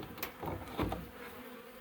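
Bees buzz around an open beehive during a hive check, a brief close hum of several insects with a light rattle of frames or utensils.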